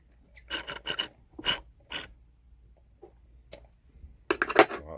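Scissors snip and rasp at the loose ends of a fishing loop rig, a handful of short, close cutting and rubbing sounds in quick bursts separated by near silence.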